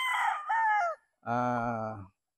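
A Red Kelso gamefowl broodcock gives two loud, close crows, each a drawn-out harmonic call of about a second, separated by a short pause.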